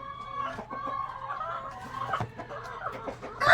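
Dekalb Brown laying hens cluck in a run of short, close calls with a rooster-like crow mixed in, busy farmyard chatter and no talking.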